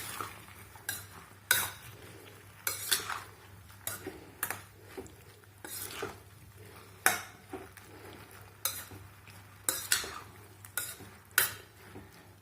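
A spatula scrapes and stirs tamarind frying in hot oil in a pan for a spicy pachadi, giving repeated short clattering strokes at an uneven rhythm over a faint steady sizzle, close and fairly quiet.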